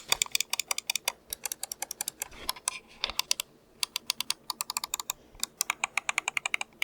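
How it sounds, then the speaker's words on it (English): Rapid, crisp clicking in quick bursts with brief pauses from the optical switch of a Roccat Burst Pro Air mouse being pressed repeatedly; close and dry, no voices. "It's an optical switch, and this is how it sounds."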